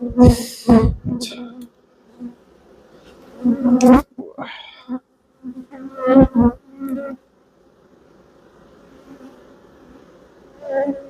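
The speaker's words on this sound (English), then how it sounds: "There's another wasp here trying to get in." A wasp buzzes near a beehive with a steady insect drone, close at times, while a person talks intermittently over it.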